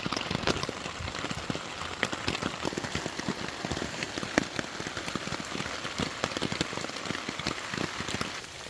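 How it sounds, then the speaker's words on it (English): Heavy rain patters steadily on a nearby ultralight camping shelter, with dense, irregular drops tapping close by throughout and no voices. "the rain definitely seemed to kind of move in quick on us there"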